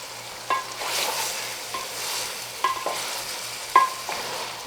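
Masala and potatoes frying in hot oil while a spoon stirs through them, a steady sizzle broken by several sharp scraping strokes against the pan, close and alone with no talk.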